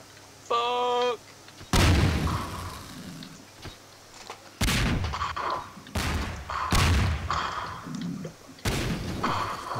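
Coconut bombs go off in the video game Gmod Melonbomber, four loud booming blasts spaced a couple of seconds apart, preceded by a short synth chirp, with excited voices shouting between explosions.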